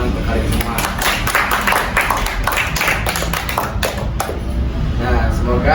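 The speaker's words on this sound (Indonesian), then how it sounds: "Tepuk tangan untuk kalian semua" A group at a school counseling session claps for themselves, a close, uneven burst of hand claps and taps with voices talking over it.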